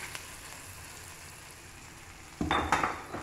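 Curry leaves dropped into hot oil in a pan for an eggplant and chickpea masala curry burst into a sudden loud crackling sizzle near the end, after a quiet low hiss.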